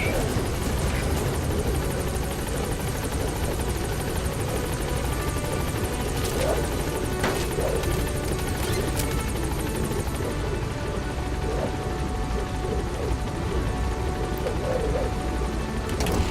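Pequod, the transport helicopter in Metal Gear Solid V, holds a steady, loud rotor drone with a dense engine whine throughout, a continuous close-up roar of an approaching helicopter that never lets up.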